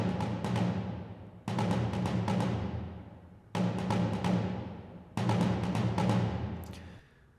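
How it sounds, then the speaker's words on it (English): Four deep booming cinematic orchestral percussion low hits, each struck in quick clustered layers and ringing out with a long decaying tail. "I added these cinematic percussion low hits here"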